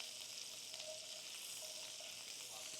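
Broccoli frying in a pan of melted butter, a soft, even crackling sizzle that runs steadily at low volume with no voices.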